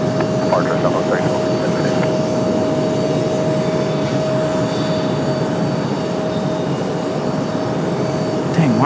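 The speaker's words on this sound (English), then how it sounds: "Southwest departing from the right." A Southwest Airlines jet departs from Raleigh Durham airport, giving a steady, loud engine rumble that holds throughout, with a sustained tone over it and radio chatter and talking in the background.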